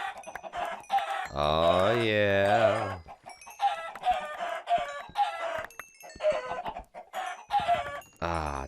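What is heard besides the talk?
chickens clucking in a video game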